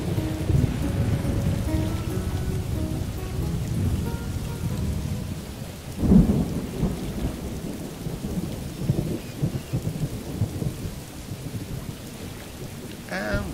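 Steady rain pours in the Morrowind video game, a dense continuous downpour with a brief louder rumble partway through, heard on its own.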